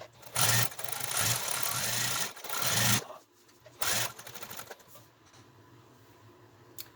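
A sewing machine stitches together sections of a scrappy paper-pieced crazy quilt, running in several bursts of a few seconds each with pauses in between, close and fairly loud with no talking.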